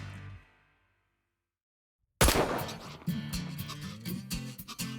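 A single loud rifle shot fired at a running doe while hunting on the prairie, bursting sharply out of near silence and followed by ringing, rumbling outdoor noise and wind.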